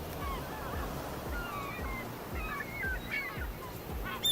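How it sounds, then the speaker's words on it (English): Ocean surf in a driving simulation game, a soft, low rolling wash of waves with breezy rumble underneath and a few faint chirping cries, gentle and distant. "Listen, you can hear the ocean."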